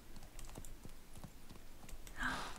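Unicorn horse in The Sims 4 running on a ranch, a quick, faint, regular patter of hoofbeats, then a brighter burst of sound near the end.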